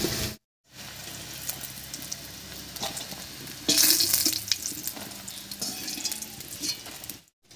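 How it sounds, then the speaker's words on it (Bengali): Egg and potato fritters (bora) fry in hot oil with a continuous crackling sizzle, briefly cut out near the start, then swelling louder with spattering bursts midway before settling again; no talk. "সবগুলো বড়াই ভাজা হয়ে গেছে, এবার নামিয়ে নিচ্ছি।"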